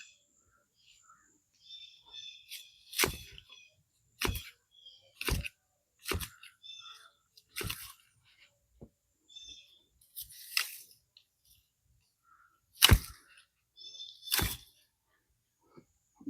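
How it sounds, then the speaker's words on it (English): Garden plants being cut back during a fall yard clean-up, heard as roughly eight sharp, close snips at irregular intervals with quiet gaps and small rustles between. "now let me cut some of this back"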